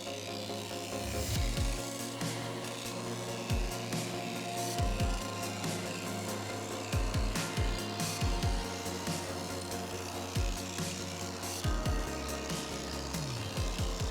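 A Lennox machine presses a peaked profile into aluminum over several passes, giving a steady mechanical drone with repeated low thuds and ratcheting, grinding bursts, fairly close and continuous with no talking.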